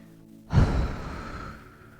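A single deep, audible breath during a yoga session, a breathy sigh-like exhale that swells suddenly then fades over about a second and a half, close and alone without speech.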